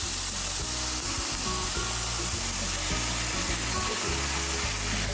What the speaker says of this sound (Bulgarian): Хубаво запържаме лука и чесъна да омекне